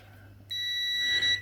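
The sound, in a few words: test beep of an electrical tester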